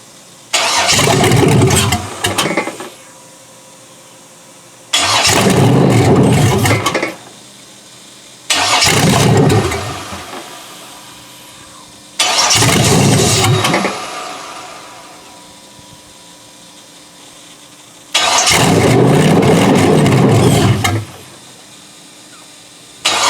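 A 6.0 L Chevy V8 pulled from a mud hole cranks and catches in five separate bursts, each roaring loudly for a few seconds before cutting out into near silence, as if running out of fuel.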